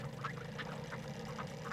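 Cartoon ducks quack in a quick repeating series, about six bright quacks spaced fairly evenly, close and clear over a light background.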